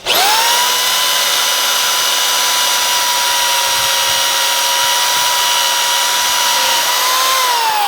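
A power drill bores an angled hole in wood for a shave horse, a steady high whine held for about seven seconds before it winds down near the end.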